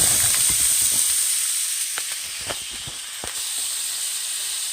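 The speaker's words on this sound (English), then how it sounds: "we're going to start off with a rough chop of those 2 onions, and we're going to saute it in some oil." Chopped onions sauteing in hot avocado oil, a steady broadband sizzle and hiss with a few soft clicks and stirring knocks scattered through, close and fairly loud.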